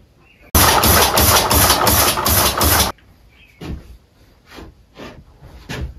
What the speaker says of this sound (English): it actually started running when I turned over on one cylinder